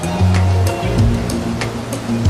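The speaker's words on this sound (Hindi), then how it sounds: "झरने बोलेंगे ना, झरने।" Waterfall streams along the Kedarnath trek in the Himalayas give a loud, steady rush of water, with a brief low rumble running under it.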